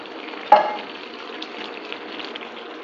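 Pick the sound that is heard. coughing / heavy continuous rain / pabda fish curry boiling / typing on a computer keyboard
pabda fish curry boiling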